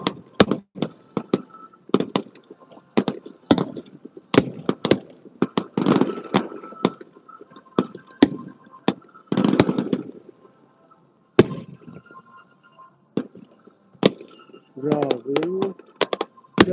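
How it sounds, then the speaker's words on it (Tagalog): Fireworks on the Fourth of July in America, sharp irregular cracks and bangs popping at varied distances, some single and some in quick clusters, with a few louder booms and scattered voices talking between them. "mga lugar na mayroong mga fireworks."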